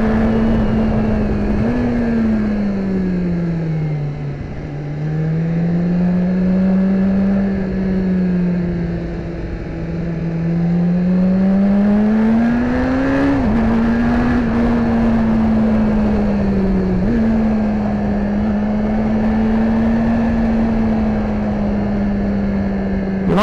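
A BMW S1000RR sport motorcycle engine drones loudly while riding a winding backroad, its pitch rising and falling steadily with throttle and gear changes, accompanied by constant wind rush.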